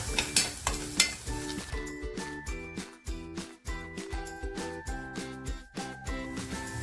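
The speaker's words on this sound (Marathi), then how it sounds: "आता हे छान मिक्स करून घेते" A pan of Kashmiri chilli masala sizzles and is stirred, with rhythmic scrapes and clinks over a tonal, steady hum that pulses in short regular beats, close and moderately loud.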